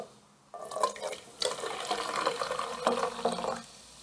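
Water poured from a container into a large cooking pot for instant Chinese soup, a close, uneven splashing stream in several bursts separated by brief pauses, with no talk.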